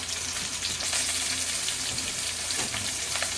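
Onions frying in oil in a wok, a continuous close hissing sizzle with faint crackles and light stirring sounds, no voices.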